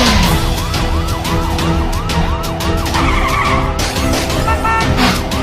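A wailing ambulance siren rises and falls in steady repeated sweeps, loud and close, over a dense roar of road noise.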